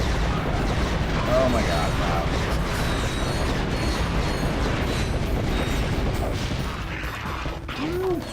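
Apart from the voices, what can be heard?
meteor gun firing in video game Ratchet and Clank 2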